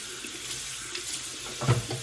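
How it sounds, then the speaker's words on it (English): Water runs steadily from a tap into a sink for hand-washing clothes, a continuous close splashing hiss with a few brief bumps near the end. "I'm gonna go ahead and add water to the sink"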